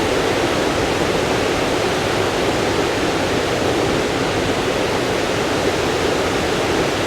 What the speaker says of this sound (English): The same exact walkway, the same exact waterfall from the movie Willow